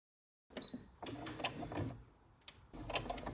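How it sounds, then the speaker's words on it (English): A home sewing machine stitches on a scrap of test fabric in short bursts of quiet mechanical whirring and rattling, starting and stopping, close by and faint. "Then I got my mom's sewing machine and first started trying out some stitches on a piece of testing fabric."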